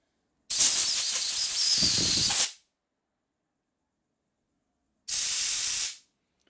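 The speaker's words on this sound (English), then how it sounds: "I'm going to back blow it so the crap blows out" Two bursts of compressed air from a rubber-tipped blow gun back-blowing debris out of a 1947 Harley-Davidson EL knucklehead 74ci engine part, a loud two-second hiss followed by a shorter one about a second long, alone with no talk.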